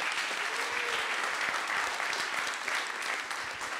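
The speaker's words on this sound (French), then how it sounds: "On les applaudit." A dense round of clapping from an audience at a coding bootcamp demo day in Paris, steady and fairly close, with no voices.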